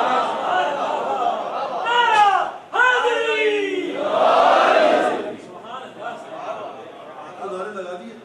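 Crowd at a Muharram majlis gathering bursts into loud, rising religious slogans together, voices swelling and overlapping for several seconds before fading into a murmur.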